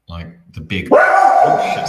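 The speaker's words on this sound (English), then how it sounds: "Sorry, that's my dog going mental." A dog barks loudly and frantically close by, a few sharp yaps followed by a sustained howling bark, while someone talks and exclaims over it.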